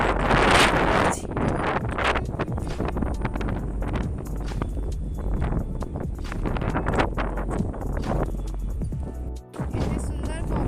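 Wind gusts across an open house rooftop at evening, a loud steady rush and buffeting on the microphone throughout, with a voice talking over it.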